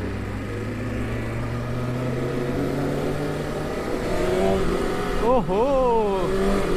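BMW S1000 superbike engine idling with a steady low drone, then blipped revs rising and falling near the end, close and loud, with a brief exclamation from a voice.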